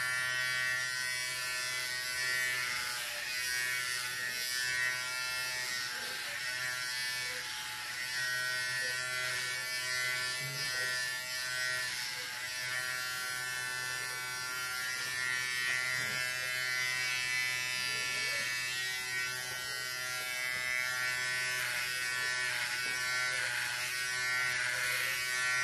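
A Philips 8-in-1 MG3730 electric trimmer runs continuously, a steady close buzzing hum with a bright harmonic whine that stays even and fairly loud for the whole stretch, with no talking.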